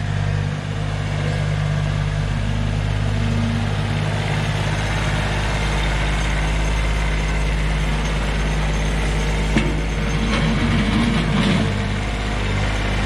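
A tractor idles at a stone-moving job: a steady, loud, low engine rumble drones evenly throughout, with a few faint clanks near the end.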